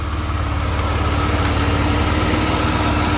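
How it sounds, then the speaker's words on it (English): A 1991 Mercedes 300E engine idles smoothly with its AC compressor engaged, a loud, steady low rumble with a constant hum and no other sounds. "Compressor is spinning."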